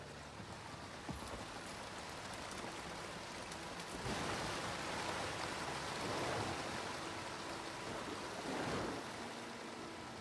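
A steady, broad rushing roar of falling water from a waterfall in Star Wars Jedi: Fallen Order, continuous and even, with slight swells in intensity and no voices.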